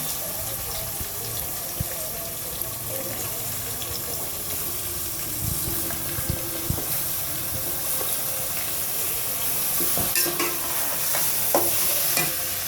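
Steady sizzling and frying of chicken in a pot, with occasional stirring clatter and scraping, fairly faint and continuous, no talking.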